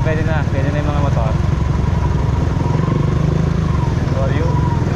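Motorcycles idle and rumble through shallow, receding flood water about six inches deep in front of a lakeside area, a steady low engine drone with clatter while people talk over it.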